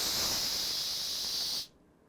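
A person's voice imitates food sizzling in a frying pan, producing a steady breathy hiss that holds for about one and a half seconds and then stops abruptly, leaving near silence.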